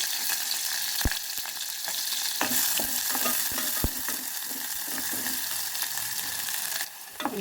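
Onions fry in hot oil in an old pan, a dense steady sizzle with scattered sharp spoon taps and stirring knocks, close and continuous.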